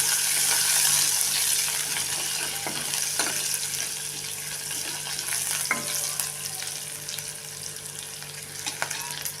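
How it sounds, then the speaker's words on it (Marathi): Curry leaves and garlic cloves sizzle in hot oil in a pan for Maharashtrian kadhi, a steady close-up crackling fry with occasional stirring clatter. "आता हा कढीपत्ता ते थोडा वेळ चांगला असं परतून घ्या"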